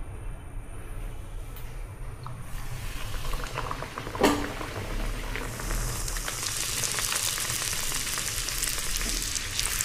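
Mangalore buns fry in hot oil, giving a steady, dense sizzle and bubbling that grows brighter partway through, with a faint clink along the way.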